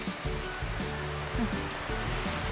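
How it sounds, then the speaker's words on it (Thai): Tat waterfall pours in a steady, dense rush of falling water that stays constant and fairly loud throughout, with a faint low rumble underneath and no speech. "อันนี้เป็นน้ำตกตาดนะทุกคน"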